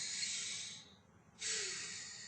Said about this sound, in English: could you take a deep breath in and out for me?